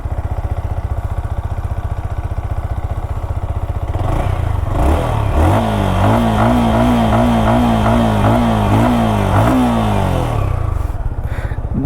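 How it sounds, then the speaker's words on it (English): A Yamaha XSR 155 motorcycle engine idles, then revs up repeatedly in rising and falling bursts through the exhaust, loud and close, before settling back to a rumble. "let's also hear the exhaust note"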